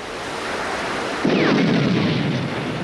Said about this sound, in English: Hartigan sinks the Leslie with the last torpedo of his career.